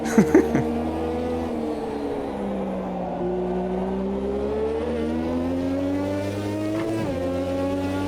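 A 1986 Lotus 98T Formula 1 car in a racing video game, its engine droning loud and close with steady pitch sweeps through gear changes, a brief blip of shifts at the start and another near the end.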